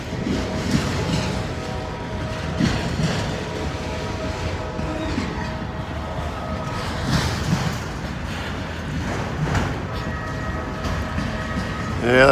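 The Connorsville train rolls past with a continuous rumbling drone of cars and engine, its steady, broad sound holding through the whole stretch with some faint voices.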